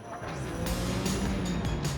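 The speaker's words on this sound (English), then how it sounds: "You're getting your foot down now. We're getting a few revs." A Ferrari engine revs as the driver accelerates, a fairly quiet, low rising drone with a few sharper bursts layered over it across two seconds.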